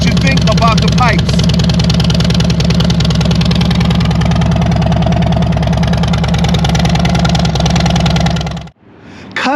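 A 2018 Harley-Davidson Road Glide Special idles through custom exhaust pipes with a loud, steady, lumpy rumble, close by, before cutting off abruptly near the end; a voice is heard briefly early on.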